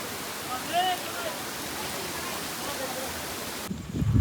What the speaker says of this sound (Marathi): ही एक मोठी स्ट्रीम आहे